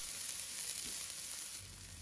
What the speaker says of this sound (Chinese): 把切好的葱姜蒜末放入锅中，小火慢炒，把香味炒出来